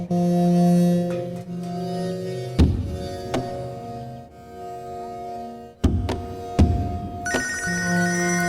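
A telephone rings in a roadside hotel eatery, repeated electronic bell tones ringing steadily and fairly loud, broken by a few dull thunks.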